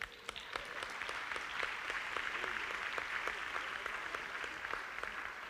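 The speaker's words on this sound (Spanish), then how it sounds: "ese aplauso fue un aplauso sumamente tibio" Lukewarm applause from a church congregation during a Sunday service, a thin, sparse patter of clapping at low volume with distinct individual claps, steady throughout and fairly distant.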